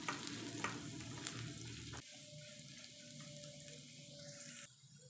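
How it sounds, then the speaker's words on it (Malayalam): Stirring green chillies into a potato and spinach curry in a pan, with a steady sizzle under scraping strokes. Water runs in the background, and a faint high tone holds partway through. "പച്ചമുളക് ചേർത്ത് വീണ്ടും ഒന്നുകൂടെ ഒന്ന് ചെറുതായിട്ടൊന്ന് ഇളക്കി കൊടുക്കാം."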